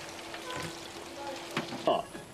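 Small white fish drop into hot oil in a pot at a street food stall, giving a steady close sizzle and crackle with a brief louder spatter near the end.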